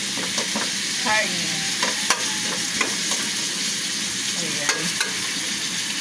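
Meat for kaldereta is stirred in a hot frying pan, with repeated scraping and clacking of the utensil over a steady sizzle and a few sharp knocks. A voice speaks briefly.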